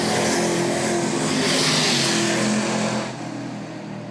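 Race cars roar around the oval during the early laps of a 35-lap feature race, a loud, dense engine drone that holds steady for three seconds and then eases slightly as the pack moves off.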